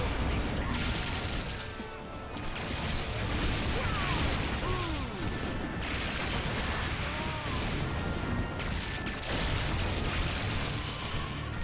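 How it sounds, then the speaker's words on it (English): Electrical traps zap ogres in the Orcs Must Die tower level, crackling bursts and pops layered over dense game battle noise, mechanical clanks and swooshing effects, continuous and loud throughout. "our electrical traps are doing a great job here zapping the ogres"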